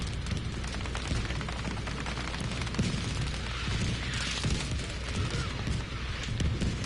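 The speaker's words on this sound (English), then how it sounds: "we will be seeing the bullets flying and the explosions occurring" Dense, continuous gunfire and explosions from a video game battle, with rapid bursts of shots and deep booms layered over one another at steady loudness throughout.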